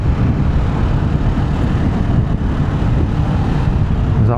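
Motorcycle cruising at 5,000 RPM in sixth gear, a loud, constant engine drone mixed with heavy wind rush across the microphone, unbroken throughout with no voices.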